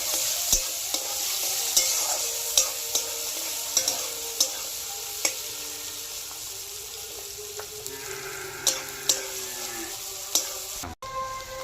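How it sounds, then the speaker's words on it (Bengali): Chopped onions and green chillies fry in a pan, a continuous sizzle broken by repeated clicks and scrapes of a spoon stirring them, steady and close. "আমি এইভাবে লাল করে ভাজছি"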